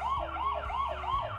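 An SMPL assistive-technology door alarm blares a rapid, repeating electronic warble, loud and close, with no talk over it.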